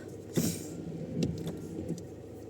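A car engine warms up at idle, a steady low hum heard close by from inside the car, with a few faint clicks over it and no talking.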